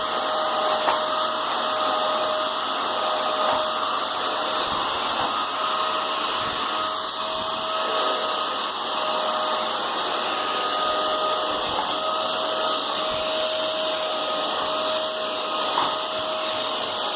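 A Eureka Forbes Trendy Nano vacuum cleaner runs steadily and loudly, cleaning a carpet indoors, with a continuous whine and airflow hiss and no break.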